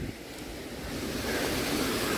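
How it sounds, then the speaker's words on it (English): Water rushing along the St Croix River area near Chisago Lakes, a steady broadband roar that swells slightly louder toward the end, with no voices over it. "That's the reason why there's so much water rushing through here"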